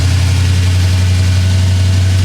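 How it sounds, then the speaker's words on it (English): A Chevrolet Bel Air engine, just started and still cold, runs at a high idle on the choke, a loud, steady, close-up low hum with an even rhythmic throb and no variation in speed. "Got the high idle there on the choke."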